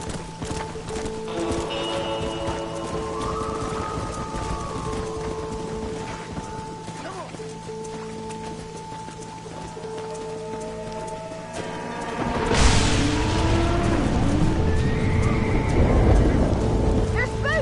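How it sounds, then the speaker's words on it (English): Horses stampede in the video game Red Dead Redemption: a rush of galloping hooves with whinnies, under game music with shifting tones and spoken dialogue, swelling louder and denser near the end. "They're spooked! We have to stop the stampede!"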